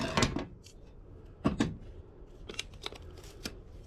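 Scissors snip through lengths of strong, water-resistant tape, giving a few sharp, close cutting bursts spaced over several seconds with quieter handling between.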